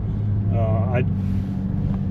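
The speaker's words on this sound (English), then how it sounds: "It's in track exhaust right now." A Chevrolet Corvette C8 Z06 in track exhaust mode hums with a steady, low engine drone inside the cabin, while a person speaks briefly over it.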